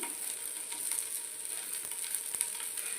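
Round potato slices sizzle steadily as they fry on a flat tawa griddle until crispy, a soft continuous crackle with faint scraping, close but quiet.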